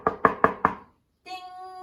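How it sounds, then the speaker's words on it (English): Four firm knocks on a door in a steady quick rhythm, followed after a brief pause by a sustained electronic doorbell chime, close and clear. "this time they knocked and rang the bell"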